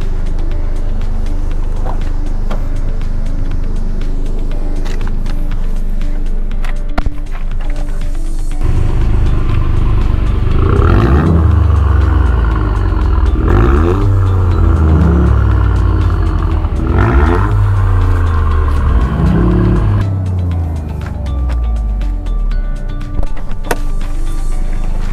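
Toyota GR Yaris fitted with a straight-through Milltek Sport exhaust, blipped and revved several times in succession over a steady idle, producing loud, close rasping rises and falls before settling back to idle.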